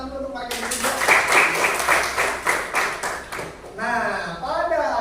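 Schoolchildren in a classroom clap together in a lively burst of applause lasting a few seconds, then it stops and a voice starts talking.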